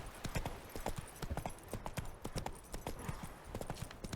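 Roach, the horse in The Witcher 3, clip-clops along in a steady, close rhythm of hoofbeats that run through the whole stretch.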